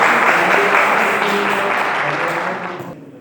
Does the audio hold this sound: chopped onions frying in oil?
no